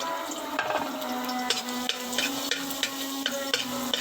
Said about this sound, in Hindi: अब मैं इसमें ये क्रश लहसुन जो है वो डाल रही हूँ।